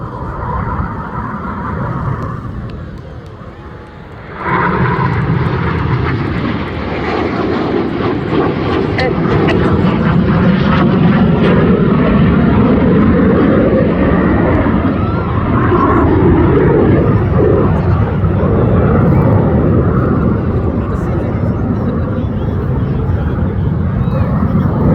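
RAF Red Arrows jets performing a flying display at the Midlands Air Festival, a loud sustained engine roar that swells after a few seconds and holds steady, with a commentator speaking over it.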